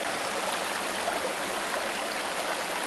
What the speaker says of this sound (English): Imagine you are sitting beside that stream, watching it flow past you.